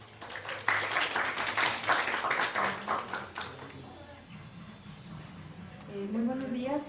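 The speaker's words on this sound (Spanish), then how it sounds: "Un aplauso, por favor." Conference audience at a psychotherapy lecture applauds, a burst of clapping that swells loudly then thins out into scattered claps, followed by a voice beginning to speak.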